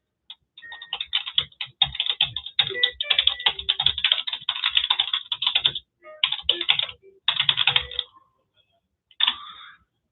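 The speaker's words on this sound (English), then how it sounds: "I'm going to just type something there myself right now" Rapid clattering keystrokes on a computer keyboard during an affordable housing info session for Emblem 120 in Woburn, coming in dense bursts with short pauses, close and clear, with no one talking.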